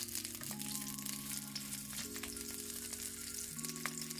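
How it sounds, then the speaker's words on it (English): Sausage fries in extra virgin olive oil for Jamaican-style fried rice, a soft continuous sizzle with faint crackles under a steady tonal background hum. "Now we're gonna fry up the sausage."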